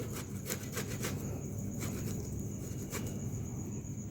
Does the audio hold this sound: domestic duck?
no